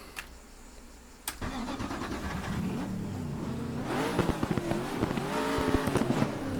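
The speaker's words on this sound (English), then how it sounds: "Nice sounding engine there." The Nissan GTR GT1 race car's V8 engine in the RaceRoom simulator fires with a sharp click, settles to a rumbling idle, then revs up in loud, rising bursts.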